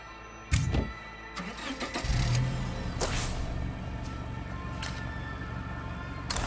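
A car engine in State of Decay 2 cranks and catches, with clunks and a sharp starter burst, then settles into a steady mid-pitched idle under a few scattered clicks, fairly close, with no talking.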